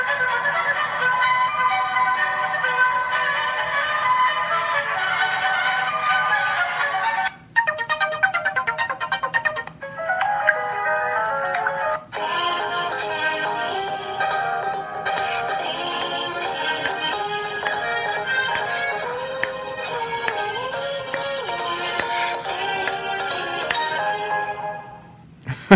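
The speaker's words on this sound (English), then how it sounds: "So ringtones, yeah, they're super loud." A loud electronic ringtone from a ZTE Axon 7 phone plays a bright, repeating melody for nearly half a minute, with a brief break partway through before resuming.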